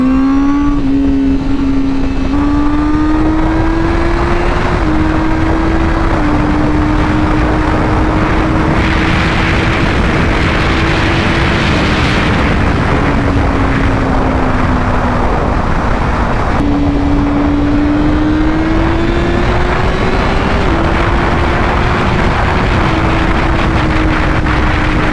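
A Honda CBR 1000RR sport motorcycle roars continuously on a test ride, its engine pitch climbing and dropping through repeated gear changes, loud and close with rushing wind noise.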